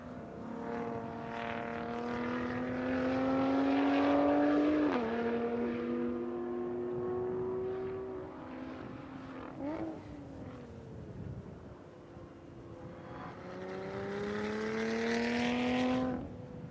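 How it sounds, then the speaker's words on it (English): A Lotus Evora race car laps a track at a speed festival, its engine note climbing through gears with sharp shifts, fading as it moves away and then surging louder as it returns. "Sticking here with Michael in that Lotus Evora once again"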